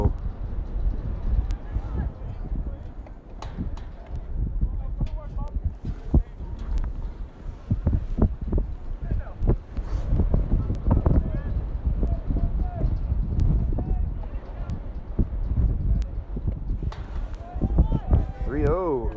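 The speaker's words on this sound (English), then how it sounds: "It's gotten raunchy windy just now." Steady wind roars and buffets the microphone in a low, continuous rumble at a baseball game, with faint voices and crowd noise underneath.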